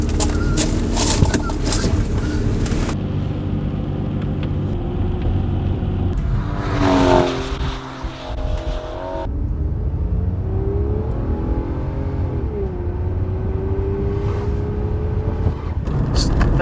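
An Aston Martin DB9 grand tourer's engine drones steadily while driving, with a rising rev swell midway and a sustained cabin roar, close and loud throughout.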